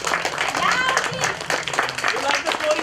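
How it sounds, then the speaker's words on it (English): Audience applause for two storytellers at a literature festival evening, dense clapping sustained throughout, mixed with children's chatter and voices over it. "Can you clap for both the storytellers now?"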